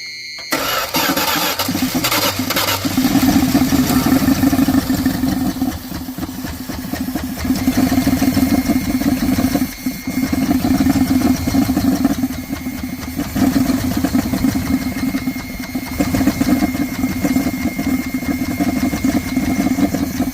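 A 1979 Dodge engine cranks briefly, then catches and runs with a rough, steady idle whose revs rise and dip slightly, loud and close.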